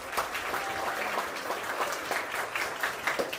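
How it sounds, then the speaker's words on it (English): A baseball crowd at a Pacific-Empire League game between the Prune Packers and Humboldt Crabs claps in a steady rhythmic beat, one strike from the end of the game, with a dense spread of cheering noise underneath. "The crowd taking it away with the clap."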